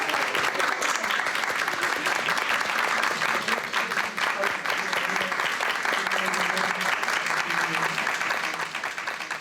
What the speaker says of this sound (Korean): 조선대 학생들의 박수는 길었다